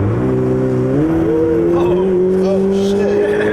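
A 2020 Ferrari 488 Pista accelerates hard on an open road, its engine note climbing steadily in pitch as it revs up through the gear, loud and close from inside the cabin.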